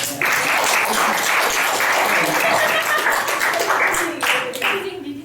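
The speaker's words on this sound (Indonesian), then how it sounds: "Tepuk tangan dulu, semuanya" Youth retreat group at a church discussion session giving a round of applause, a loud burst of many hands in uneven waves that thins out and fades near the end, with some voices mixed in.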